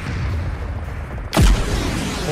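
A sudden deep boom of an explosion in PUBG Mobile bursts out over a low rumbling background, a single loud blast followed by a sweeping whoosh that fades into steady noise.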